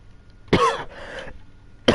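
A sick person coughs twice, harsh and close, with a rough, drawn-out middle section after the first cough and a second cough at the very end, with no talking.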